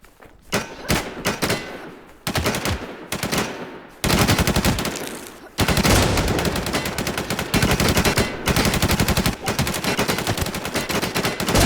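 Rapid bursts of gunfire from the shooting game WarZ crack loudly and close, alternating automatic strings with short pauses for the full length, with no talking over them.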